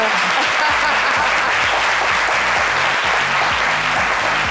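Studio audience applause welcoming a guest on a French-language midday television show, dense continuous clapping from a crowd at steady volume throughout, with a low rhythmic musical beat underneath.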